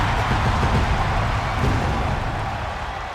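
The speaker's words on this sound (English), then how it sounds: "The entire WWE Universe is cheering on Shaq" Loud, steady crowd cheering and roaring from an arena audience in the wrestling video game AEW 2K25, a dense continuous wash of noise with no talk.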